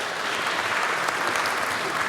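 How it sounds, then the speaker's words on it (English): Dense, steady applause from a conference audience at a climate-emergency innovation event, a continuous wash of many hands clapping at moderate volume with no pauses. "Give him a round of applause."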